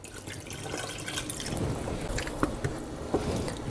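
Water is poured into a cooking pot for a one-pot pasta, a soft continuous splashing with a few drips near the end, close and moderately quiet.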